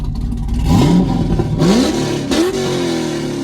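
A Chevrolet Corvette's engine revs up in three short, rising bursts, each climbing in pitch and falling back, loud and close with a deep rumble beneath.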